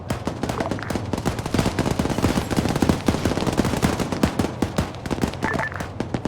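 Sustained rapid bursts from a ZU anti-aircraft gun in a military video game, loud, continuous automatic fire with a dense, thudding rhythm throughout.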